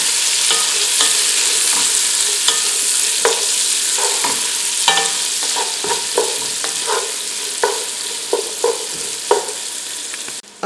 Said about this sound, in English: And we're going to cook that for about 5 to 6 minutes. Or until the onions are translucent.